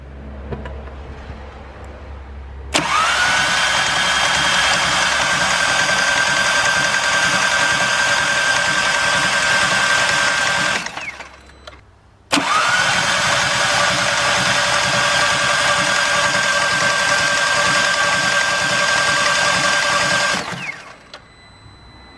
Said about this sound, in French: Je vais maintenant démarrer le moteur, amorcer le moteur en huile.